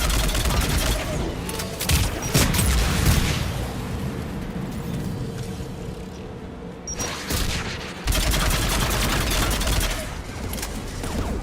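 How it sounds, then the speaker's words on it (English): An anti-aircraft gun fires in Mass Effect 3, a dense roar of rapid booming bursts and mechanical clatter that pounds on continuously, swelling in loud waves with short lulls. "The anti-aircraft gun."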